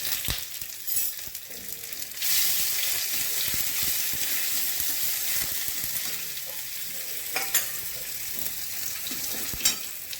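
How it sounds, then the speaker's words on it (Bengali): Dried chillies, bay leaves, radhuni seeds and grated ginger sizzle in hot oil for a bitter dal tempering, a continuous crackling hiss that swells as ingredients drop in, with scattered clinks of stirring. "দুটো শুকনো লঙ্কা দিচ্ছি, দুটো তেজপাতা দিচ্ছি, রাঁধুনি ফোড়ন করছি, গ্রেট করা আদা দিচ্ছি,"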